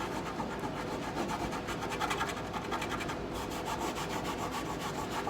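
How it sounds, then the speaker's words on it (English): Sawdust and glue being rubbed into a void in a wooden console table joint, a steady close scratching and rasping rub that continues throughout with no talk. "I'm just going to use a little bit of sawdust and glue to fill in that any void left over here."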